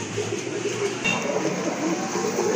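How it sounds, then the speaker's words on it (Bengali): A pair of red indigo pigeons at a pigeon seller's, giving soft, low cooing calls mixed into a steady, noisy background hum throughout. "মাশাআল্লাহ, খুবই সুন্দর এক জোড়া কবুতর আছে দেখতে পাচ্ছেন"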